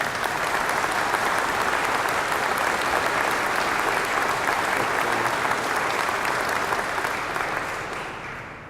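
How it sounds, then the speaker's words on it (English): Sustained audience applause at a police memorial day service in Saint Paul, a dense, steady roomful of clapping lasting several seconds before tapering off slightly at the end. "Let's give them a round of applause."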